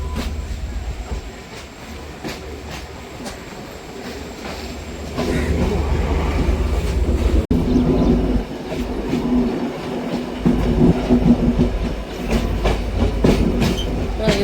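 A train on the Colombo to Jaffna line rolls along with a continuous low rumble and rhythmic clatter of wheels, heard as steady heavy noise throughout with no talking.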